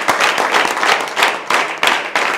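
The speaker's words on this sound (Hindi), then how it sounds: "जोरदार तालियां सभी लोग बजाते रहें।" Loud, close applause at a direct selling networking event in India swells in repeated waves of dense clapping, surging and easing several times with no clear voices.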